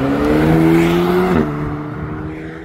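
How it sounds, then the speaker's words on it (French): Alpine sports car doing a launch-control start at a supercar meeting: a loud, close engine roar with rising revs that shifts gear around the midpoint, then keeps pulling as it moves away. "Petit launch control d'Alpine."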